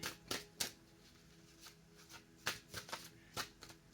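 Tarot cards being shuffled for a reading, a series of quick, crisp riffling bursts in irregular clusters, close and fairly quiet with short pauses between them.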